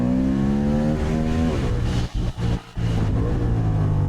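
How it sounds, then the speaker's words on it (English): Honda CB750 Hornet twin-cylinder motorcycle engine revving hard through the gears, climbing in pitch, with a brief gap at each quick shift before pulling again, loud and close throughout. "When you open it up with confidence, the twin-cylinder engine gives you some really nice, satisfying accelerations"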